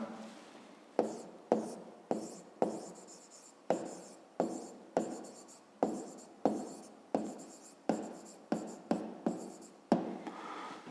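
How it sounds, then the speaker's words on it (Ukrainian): Pen writing down the answer to a fifth-grade math exercise, a run of about fifteen sharp strokes and taps spaced at a fairly even rhythm, close and fairly faint, no talking. "Ну а зараз записуємо відповідь."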